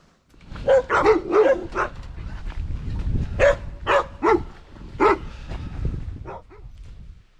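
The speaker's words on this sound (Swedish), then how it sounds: "Jag vet inte hur många hundar som håller på att skälla på mig när man springer förbi." Several dogs bark repeatedly at a runner passing on a hiking trail, with sharp irregular barks in clusters across several seconds and some yips, fairly close and with no talk.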